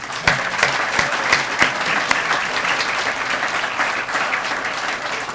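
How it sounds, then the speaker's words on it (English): At an art and music grand opening, the audience gives the speakers another round of applause, with steady crowd clapping and a few sharper, louder claps near the start. "Can you join me in giving them another round of applause, please?"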